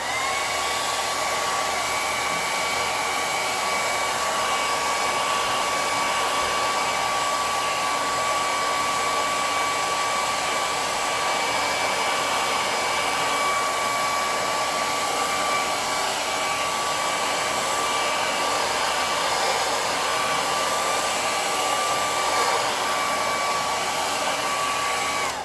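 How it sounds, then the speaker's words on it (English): A hair dryer blows steadily on freshly distressed wood for a candle holder. The whir is loud and continuous, with a constant high whine and no pauses or voices. "I'm going to use the hair dryer and dry this"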